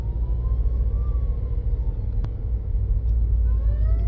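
Emergency vehicle sirens wail through traffic, faint rising and falling tones drifting over a steady, loud low rumble of a car interior.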